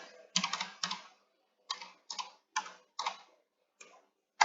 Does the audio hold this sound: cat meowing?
no